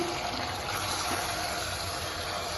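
Steady gushing of water being poured into a pressure cooker holding chicken, a continuous close rush of liquid with no talk.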